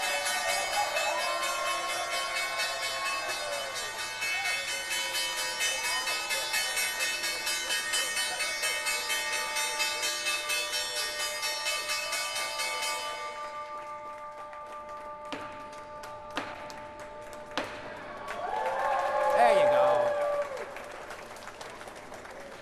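The closing bell at the New York Stock Exchange rings out in a sustained, bright metallic tone for several seconds, then cuts off into scattered claps and a swelling burst of crowd applause.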